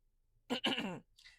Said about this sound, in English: Let me clear my throat.